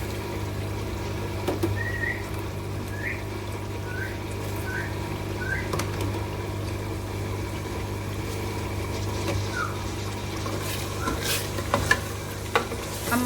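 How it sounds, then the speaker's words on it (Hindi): Minced meat keema and peas stir-fried in a pan give a steady low sizzle, broken by scattered clinks and scrapes of a stirring spoon. "हम मटर और कीमे की अच्छे से भुनाई कर लेते हैं"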